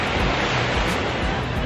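Ocean waves wash steadily onto a beach at high tide, a continuous loud surf roar with gentle swells and no talking.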